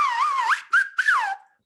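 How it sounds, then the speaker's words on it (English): A person whistles a short, bright melodic phrase with sliding pitches, broken into three quick segments, close and solo with no other sounds. "It starts off with whistling."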